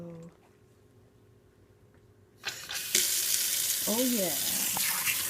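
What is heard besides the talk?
water running from a Moen Align kitchen faucet without flow restrictor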